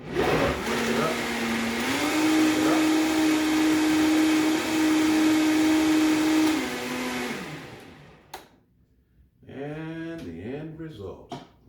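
A kitchen blender whirs loudly and steadily for about seven seconds while blending a smoothie, then winds down and stops; a person talks briefly afterward.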